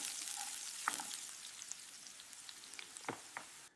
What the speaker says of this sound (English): a close-up focuses intently on diced onions hitting a sizzling pan. Audio, distinct sizzle.